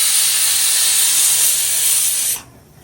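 A pressure cooker whistle releases steam in a loud, steady hiss that holds for over two seconds and then cuts off abruptly, leaving quiet; the cooker is in a home kitchen where a spicy kandankay fry is being prepared.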